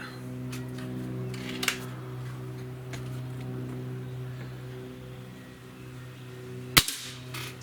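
A Cometa 94 breakbarrel air rifle fires once as a sharp crack near the end, set against a steady mechanical hum, with a smaller click earlier on.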